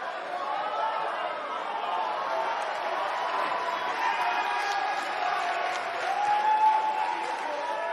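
A fired-up crowd at a WWE 2K19 wrestling show set in Los Angeles roars steadily, a dense wash of cheering and chatter throughout, with a louder swell near the end.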